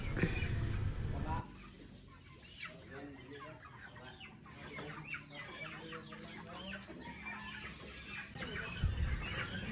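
A delivered batch of broiler chickens clucks and chatters continuously at close range, many birds overlapping in busy, uneven calls, with louder handling noise at the start and end.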